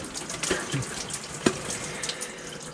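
Water runs from a summer outdoor shower with a steady hiss and splash, broken by a few louder spatters as it hits a body or surface.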